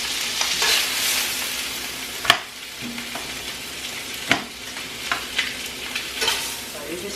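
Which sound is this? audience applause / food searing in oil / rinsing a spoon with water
food searing in oil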